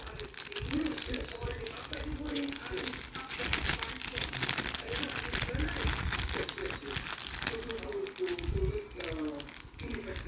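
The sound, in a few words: plastic bag being opened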